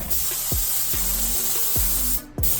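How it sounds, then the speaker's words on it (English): Compressed air blows dust off a sanded surface before airbrushing, a loud, continuous close-up hiss with a brief cutoff near the end, accompanied by faint low thumps. "I'm going to hit it with a little bit of compressed air just to get the dust off of it"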